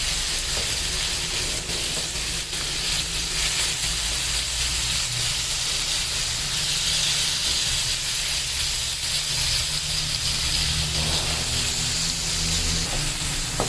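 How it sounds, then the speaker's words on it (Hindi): Minced chicken frying with ginger and garlic in a pan gives a constant dense hiss and sizzle, loud and close, holding steady throughout with no speech over it. "चिकन का जो ये कीमा है ये डाल देंगे। इसको भी भून लेंगे अदरक लहसुन के साथ।"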